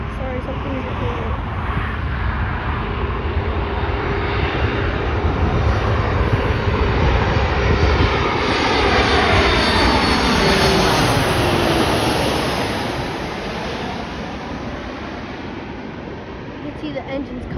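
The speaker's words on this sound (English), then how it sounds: "we got a Boeing 737 MAX 8 United Airlines from Cleveland, Ohio" A United Airlines Boeing 737 MAX 8 jet roars past at O'Hare, its engine noise swelling loud and broad with a sweeping whoosh, peaking midway, then fading, with people talking nearby.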